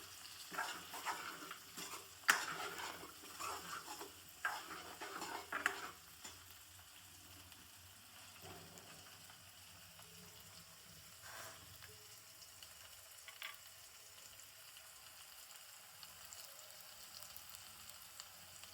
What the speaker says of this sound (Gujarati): ડુંગળી, મરચાં, ટામેટાં અને બટાકું સારી રીતે શેકાઈ ગયું છે